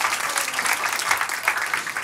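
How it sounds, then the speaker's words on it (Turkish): An audience at a quiz night applauds a quiz team, producing steady, dense clapping that fills the room for about two seconds with no break. "Team Foça'yı da alkışlıyoruz."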